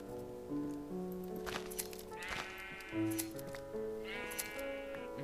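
Sheep bleat in the video game Minecraft, several short wavering bleats scattered over a few seconds alongside footsteps and rustling, with music playing underneath.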